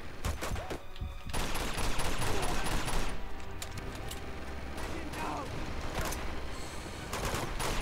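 Enemy gunfire in the video game Uncharted 2, dense bursts of rapid shots and impacts running continuously and loudly throughout, with some voice-like sound mixed into the battle din.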